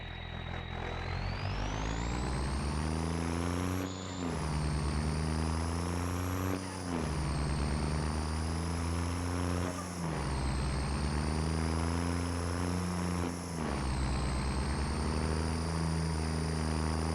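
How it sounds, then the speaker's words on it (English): A modded Ram pickup truck engine in Farming Simulator 25 idles and revs in steady cycles, its whine climbing and dropping every few seconds, loud and continuous with no talk. "moving on to the sound test of the Ram"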